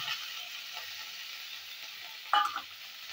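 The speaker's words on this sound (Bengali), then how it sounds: "কড়াইয়ে জিরে, কালো জিরে ফোড়ন দিয়ে তেল দিয়ে দিয়েছি। এরপরে লাউ পাতাটা দেবো।" Cumin and black cumin seeds sizzle in hot oil in a kadai before mashed bottle gourd leaves go in. A faint, steady sizzle plays close by, broken by one brief clatter of stirring.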